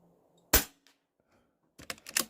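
A Stoeger XM1 Scout PCP air rifle fires one sharp, loud crack, followed moments later by a quick cluster of several more snappy pops, with quiet between.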